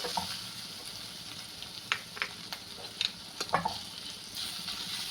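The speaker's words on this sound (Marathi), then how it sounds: "आता हे सगळा मसाला आपल्याला एक चांगला मिक्स करायचा आहे" Paneer bhurji with turmeric, red chilli, cumin powder and paneer masala stirred in a hot pan, a steady sizzle under scattered light scrapes and taps of the spoon.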